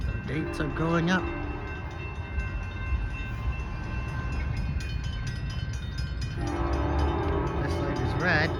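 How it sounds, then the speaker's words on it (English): A freight train passes a crossing in Springfield, Illinois, a continuous rolling rumble with a horn blast near the start and another toward the end, loud and close. "I think it's because I see a freight train."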